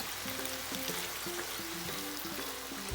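Sriracha and pasta sauces hitting a hot pan with chicken, a steady close sizzle with light stirring and a few soft clinks, alone and fairly quiet.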